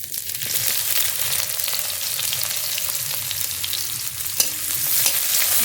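Cumin seeds and chopped onion fry in hot mustard oil for a tempering, a loud continuous sizzle up close with scraping stir strokes and occasional pops, no talking over it.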